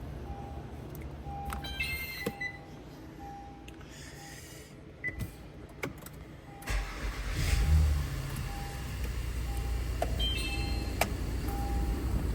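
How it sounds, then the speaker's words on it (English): An Acura MDX with a cylinder four misfire is started inside a garage and settles into a low, rough idle, with faint ticking and clicks audible above the engine hum. "So start the car up here."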